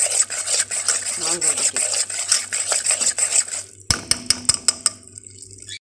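Spoon stirring flour as it toasts in oil in a pan, a steady scraping and rubbing against the metal with quick clinks toward the end; a brief voice speaks near the close.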